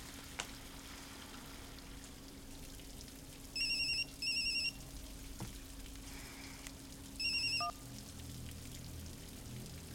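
Telephone ringing indoors in three short electronic trill bursts separated by pauses, moderately faint over a quiet room hum, no voices.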